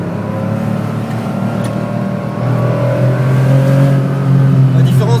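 Onboard a rear-engined, rear-wheel-drive Porsche as it accelerates, with a loud, steady engine drone rising in pitch and growing stronger toward the end.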